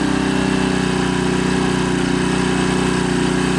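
A Sportsman 1000 watt portable generator running in economy mode at about arm's length, giving off a steady, even engine hum with a constant droning tone throughout.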